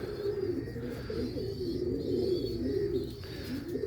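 Pigeons of a Jonsiry home breed coo nearby in low, throaty, rolling calls that run on continuously, with faint chirps above.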